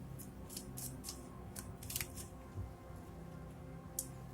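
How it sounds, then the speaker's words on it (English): A Prisma Visions tarot card is drawn from the deck, heard as a series of crisp, close paper swipes and flicks at irregular intervals, with one sharper snap near the end and no talk. "Let's draw the last tarot card here from this Prisma Visions Tarot cards."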